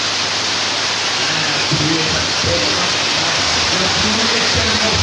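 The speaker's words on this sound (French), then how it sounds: "La pluie est tellement forte." Heavy rain pours down in Brazzaville, a dense, steady roar of downpour that stays loud and unbroken throughout, with faint voices buried beneath it.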